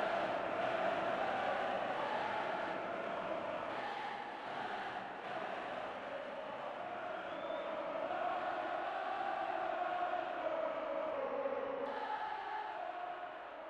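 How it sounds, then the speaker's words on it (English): Steady roar of a large stadium crowd in a football video game, a continuous dense wash of distant voices holding at an even level throughout with slight swells, no clear commentary over it. "An expectant and capacity crowd for this game."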